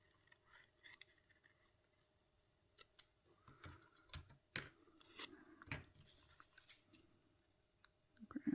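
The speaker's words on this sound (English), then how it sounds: "I am pretty sure I want to cut around this one" Scissors cutting paper for a 12 x 12 scrapbook layout, a handful of quiet, irregular snips and rustles up close, with no voices.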